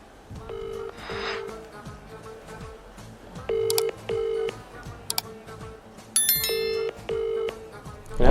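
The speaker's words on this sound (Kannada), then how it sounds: "ಯಾಕೆ ಫೋನ್ ಎತ್ತಲ್ವಲ್ಲ?" Outgoing mobile phone call ringing, a series of repeated electronic ringback tones in short regular bursts at moderate level, with faint background noise between them.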